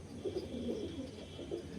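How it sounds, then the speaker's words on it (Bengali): Andhra pigeons kept for sale coo softly in low, rolling murmurs, a few faint calls close by with no voices over them. "পিওর আন্ধ্রা পায়রা আছে, ঠিক আছে বন্ধুরা।"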